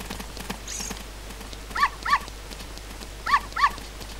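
Richard the dog from The Legend of Zelda: Ocarina of Time gives two pairs of short, clear barks, sounding near and alone over a quiet background.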